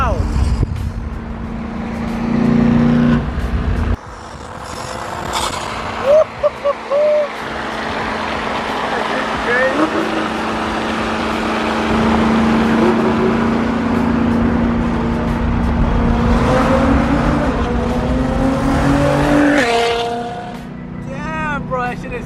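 A Nissan GT-R sports car engine rumbles and revs near the listener at a car meet, its roar rising and falling with loud, raspy intake noise throughout.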